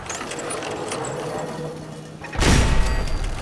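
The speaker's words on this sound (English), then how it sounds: "Oh, it's another turret." An automated turret in Fallout 4 opens fire, a sudden loud burst of rattling mechanical shots that cuts in after a low droning ambience and keeps going to the end.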